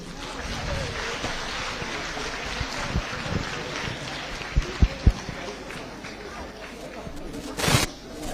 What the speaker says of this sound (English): Because through your applause, I'm not able to hear anything.